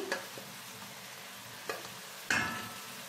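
Onions frying in a pan for kobeiba sayadeya sizzle quietly and steadily, broken by a few distinct stirring scrapes, close and soft with no speech.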